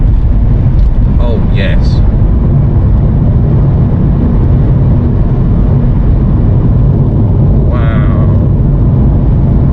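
Honda e electric car accelerating hard in sport mode, heard from inside the cabin as a steady, loud wash of road and motor noise with a few brief exclamations from the occupants.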